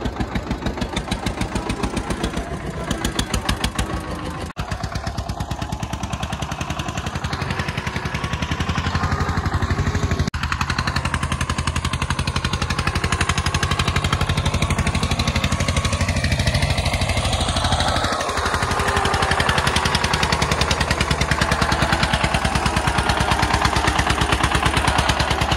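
A 1991 Eicher tractor engine labours up a steep slope onto a road, a loud continuous thudding diesel chug with rapid knocking pulses that holds strong and close throughout, with no talk.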